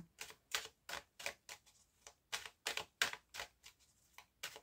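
Tarot cards are handled for a nine-card spread, giving a quick series of about a dozen sharp, close flicking snaps as cards are dealt and laid down in a brisk, fairly even rhythm, with no talking.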